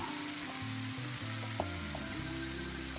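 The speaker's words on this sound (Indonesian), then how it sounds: "Kita aduk seperti ini agar tidak gosong yang ada di bawah" Spice paste for sweet-and-spicy chicken feet sizzles steadily in a pan while a spoon stirs and scrapes it along the bottom in occasional strokes, close and with no talking.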